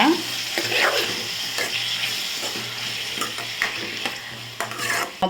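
Tomatoes, cumin and other chutney ingredients sautéing in a pan, with a continuous sizzle broken by repeated scraping stirs of a spoon against the pan, close and clear, no talking.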